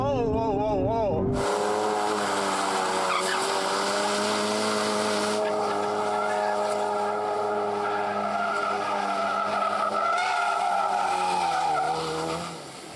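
A Ford Focus RS on a test drive skids with loud, sustained tire squeal over a roaring engine, the screech holding for several seconds before fading out; a voice is briefly heard at the start.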